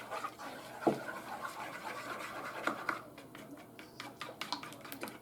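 Glazed pineapple chicken ingredients being stirred by hand in a bowl, with soft scraping and a few sharper utensil clicks against the side, faint and close, no voices.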